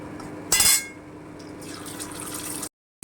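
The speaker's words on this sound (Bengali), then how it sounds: "এবারে আমি জিরে বাটাটা দিয়ে দিচ্ছি" Cumin paste going into a hot pan of frying spices for a Bengali stuffed pointed gourd curry, giving a sudden short burst of sizzle followed by steady close crackling that cuts off briefly near the end.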